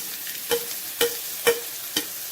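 Onion and chopped green chilies stir-fried in a pan, a steady sizzle broken by four evenly spaced scrapes of the spatula, close and moderately loud, with no voices.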